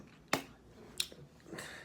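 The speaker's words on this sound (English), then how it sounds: "I always clap in the beginning of the video." A single sharp hand clap rings out close by in a quiet room, followed by a fainter second snap-like hit and some soft movement noise.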